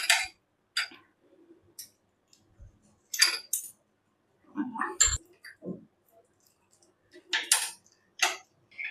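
Corn being mixed with butter, pizza seasoning and red chili flakes in a bowl gives sparse clinks and scrapes in short bursts, with quiet gaps between them.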